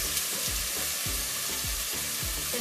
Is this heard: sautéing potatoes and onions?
yes